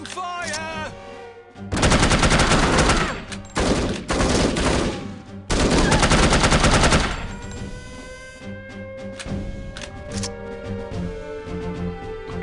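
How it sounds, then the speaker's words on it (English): Automatic gunfire in the video game No One Lives Forever: loud, dense bursts of rapid shots in several volleys separated by short gaps, followed by softer game sounds and music. "Incoming fire!"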